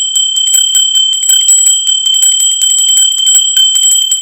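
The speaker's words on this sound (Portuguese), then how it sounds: "acione o sininho, porque o sininho tocou" A bright, tinkling bell chime repeats rapidly and continuously for a few seconds, ringing clear and close with no voices.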